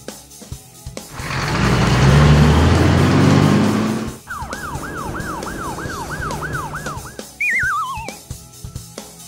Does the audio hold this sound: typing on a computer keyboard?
no